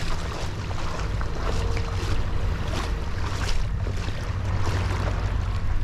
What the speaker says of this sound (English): the way the waves are coming in